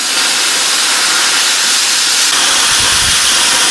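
A Bestarc plasma cutter set at 35 amps cuts quarter-inch metal, a loud, continuous hiss of rushing air with a brief low rumble near the end and no talking.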